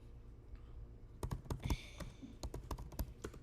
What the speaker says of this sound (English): How loud is the typing coming through?